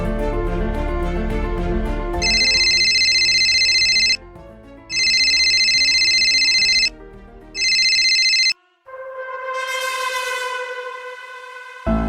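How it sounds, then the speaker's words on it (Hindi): A phone call rings out loud and close with a repeating electronic ringback or ringtone pattern. After three long bursts with short gaps, a rising, warbling melodic tone follows. "मैं फिर से मिलाता हूं उसको फोन"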